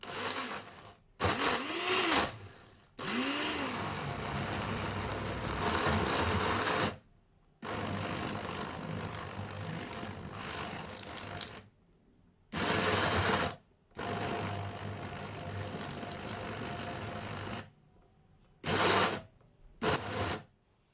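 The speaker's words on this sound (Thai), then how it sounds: "เดี๋ยวเราจะนำส่วนผสมทุกอย่างนะคะ ไปปั่นรวมกันเลยค่ะ" Kitchen blender whirring through a fish cake mixture in several bursts of different lengths, with steady loud motor drone separated by short pauses, alone without talk.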